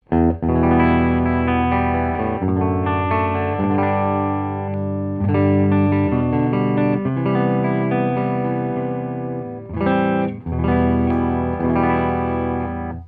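Clean electric guitar, a Telecaster through a tube amp, playing chords and melodic lines, warm and ringing with a touch of reverb, loud and alone with brief pauses between phrases.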